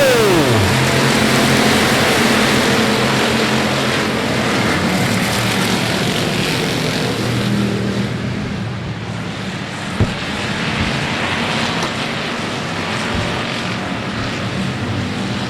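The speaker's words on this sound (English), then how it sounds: "Firing up the engines one more time." Race car engines roar continuously at a short-track speedway, a loud, dense engine drone that swells and fades slightly as cars circle, with no voices.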